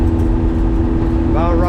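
A Bayrunner T-top boat's outboard motor runs at full throttle around 5,000 rpm, a loud steady droning hum close by, with a voice talking over it.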